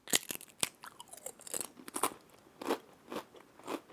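Close, crisp crunching of hummus tortilla and lentil chips seasoned with pink Himalayan salt, a run of sharp irregular bites and chews with no talk.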